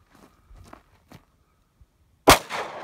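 A single loud, sharp gunshot from an AR-15 rifle or Glock 9mm pistol cracks outdoors near a hill, preceded by a few faint scuffs and followed by a short decaying echo.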